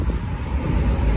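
Wind blows steadily outdoors on a clear morning, a constant broad rumble buffeting the microphone with no other clear sounds.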